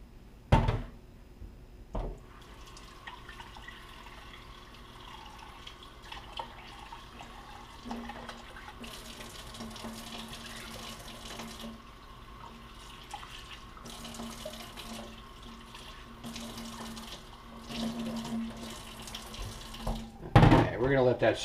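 Tap water runs steadily as sushi rice is rinsed in a kitchen sink, a continuous splashing stream under faint background noise, with a louder burst of splashing near the end.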